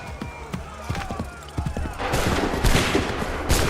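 A musket volley fired on command in Assassin's Creed III, scattered shots at first, then a dense burst of overlapping gunfire that rolls on loudly with battlefield noise.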